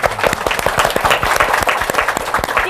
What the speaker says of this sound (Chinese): 现在就让我们热烈掌声来欢迎莲斋上师。